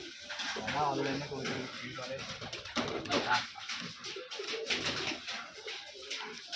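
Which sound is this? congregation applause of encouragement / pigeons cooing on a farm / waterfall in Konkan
pigeons cooing on a farm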